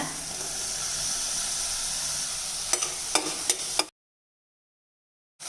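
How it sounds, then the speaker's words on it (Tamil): Green peas and masala sauté in a pan with a steady hiss of sizzling, then a few sharp scraping stirs before the sound cuts off abruptly into silence, briefly resuming at the very end. "இப்போ இந்த பட்டாணி வதங்கிறதுக்குள்ளே"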